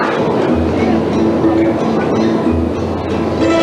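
A Moscow metro train running underground, a loud steady rumble with rhythmic low thumps of wheels over rail joints, continuous and close.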